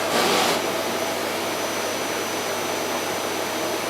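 An AEG Ultraone vacuum cleaner runs at full power on a hard floor, giving a loud, steady, unbroken whoosh with a brief brighter burst at the start and no talking.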